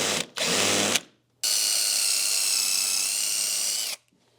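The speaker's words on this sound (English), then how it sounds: "And now go ahead with the countersink." A power drill bores countersink holes in the wooden legs of a coffee table, with a short burst, a pause, then a longer sustained whirring run that cuts off, close and loud.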